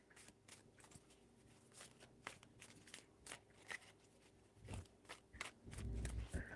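Tarot cards being shuffled by hand give quiet, close crisp riffles and soft flicks in irregular bursts, ending with a fuller rustle, faint and alone without speech.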